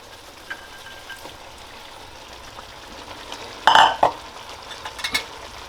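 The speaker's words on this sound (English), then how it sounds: "Just gonna mix that in there" Cabbage is stirred into a shrimp curry in a pot, a soft scraping and wet shuffling that swells into a brief louder burst of stirring, then a few lighter clinks and scrapes near the end.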